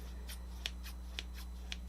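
Handheld scissors from a stationery shop being handled, with a few short crisp snips or clicks spaced apart over a steady low hum, close by and fairly quiet.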